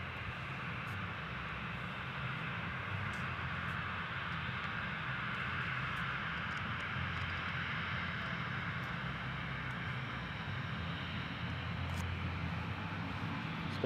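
A Boeing 737 airliner at Gold Coast Airport gives a steady, distant jet-engine roar that holds evenly throughout with no break.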